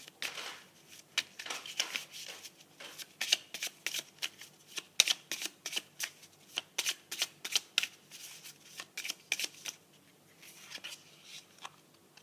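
Tarot cards being shuffled by hand, repeated crisp riffling bursts in an irregular rhythm, close and clear, with brief pauses between rounds and no talking over them.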